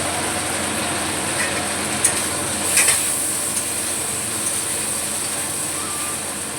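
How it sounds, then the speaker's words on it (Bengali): Prawns fry in hot mustard oil in a wok, giving a steady close sizzling hiss with a few faint pops and clinks scattered through. "সর্ষের তেল দিয়ে আমি চিংড়ি মাছগুলোকে ভেজে নেব"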